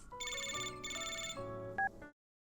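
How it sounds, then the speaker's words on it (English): A phone rings with a bright electronic ringtone, a repeating melodic pattern that plays for about two seconds and then cuts off to silence. "Suddenly the phone rings."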